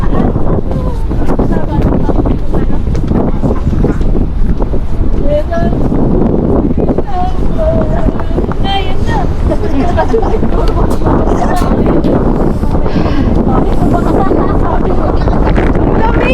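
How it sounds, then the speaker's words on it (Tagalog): Strong, cold wind roars and buffets the microphone continuously while people talk and call out underneath the gusts, outdoors in Vietnam. "Ang lakas ng hangin!"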